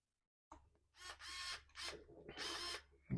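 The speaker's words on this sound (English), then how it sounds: "I need to get the screws out from behind here." A power driver backs screws out of the differential cover on a Corally Kagama 4 XL 4S RC monster truck, giving several short, close whirring bursts after a moment of silence.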